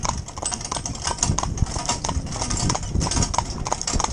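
Rubber-shod hooves of a horse being driven by a trainer clop steadily in a quick, even rhythm, close and fairly loud throughout.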